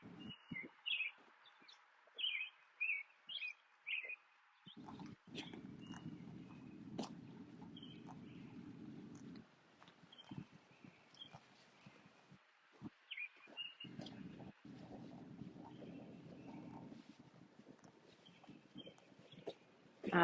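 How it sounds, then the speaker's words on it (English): Small birds chirp and tweet outdoors in short bright bursts scattered throughout, fairly close, with intermittent low rumbling and ambient noise between calls. "Can you hear the birds"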